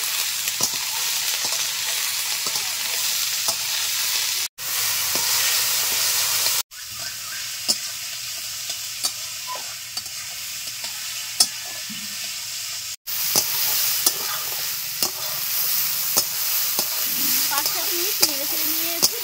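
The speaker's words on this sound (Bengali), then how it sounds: "কিছুটা ভাজা ভাজা হয়ে এসছে।" Snake gourd fries in a pan with mustard oil and green chillies, a steady loud sizzle and hiss running throughout with scraping stirs and spatula taps, broken by brief pauses.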